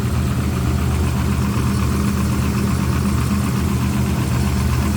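A 1934 Ford three-window coupe street rod with dual Edelbrock four-barrel carburetors, running on the rear carb, idles steadily with a deep, even rumble and a constant low throb, heard close with no talking.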